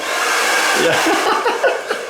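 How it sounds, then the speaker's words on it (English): A hair dryer blows with a steady, loud whooshing hum, close by, with a few faint bumps and handling noises near the end. "We've got a hairdryer. It was a demo."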